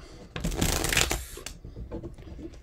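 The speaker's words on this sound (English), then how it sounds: "One more shuffle." A brief riffle of tarot cards being shuffled, a quick papery flutter lasting about a second, close and fairly quiet.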